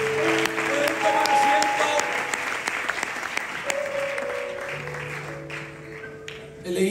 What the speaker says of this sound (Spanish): Un aplauso al